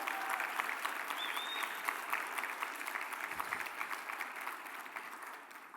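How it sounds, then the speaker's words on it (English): Audience applause at a Sunday brunch and awards event, steady dense clapping throughout at moderate level, slowly tapering toward the end with no talk over it. "Let's give them all a round of applause."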